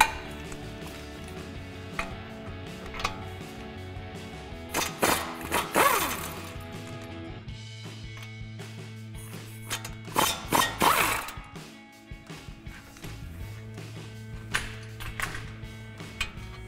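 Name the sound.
21 mm socket ratchet removing caliper bracket bolts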